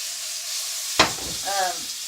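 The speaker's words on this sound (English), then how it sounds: "maybe I'll cook the fluffy side a little bit and see what happens. Kind of heat it from that side too. Oh yeah. All right. Fried fruit." Fruit frying in oil in a pan on a stove, a steady hissing sizzle with a sharp crackling burst as it is moved, close by, with a brief voice near the end.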